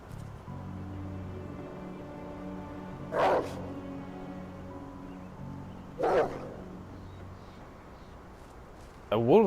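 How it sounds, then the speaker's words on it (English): A wolf in the video game Werewolf: The Apocalypse Earthblood gives three short barks spaced a few seconds apart, each brief and sharp over a low game soundtrack, with a voice speaking. "A wolf barking? I never heard a wolf barking."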